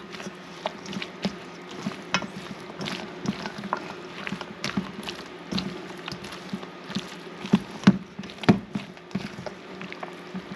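Bread soaked in milk is stirred for bread pudding, giving soft wet squishing and scraping with intermittent sharper knocks of a utensil against the pan, fairly close and steady with no talking.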